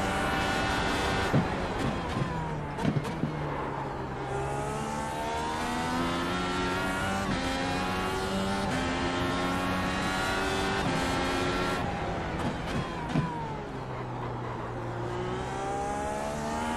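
Dallara IR18 IndyCar racing engine in iRacing at Mount Panorama, Bathurst, screaming at high revs with rising and falling pitch through gear changes and short downshift blips, steady and close throughout the lap section.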